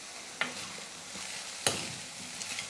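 Grated coconut is stirred into carrot poriyal in a frying pan, with a soft steady sizzle and a couple of sharp scrapes from a spatula against the pan.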